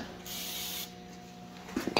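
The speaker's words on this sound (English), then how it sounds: "Just want to give it a quick spray." Brake cleaner sprays onto an engine block being prepped for a 496 stroker build, a short pressurized hiss lasting about half a second, followed by quiet and a few faint handling noises.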